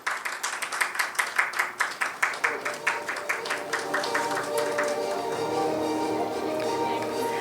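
An audience claps steadily at a healthcare awards ceremony, the applause distinct for the first few seconds before thinning into a continuous crowd wash with faint background voices.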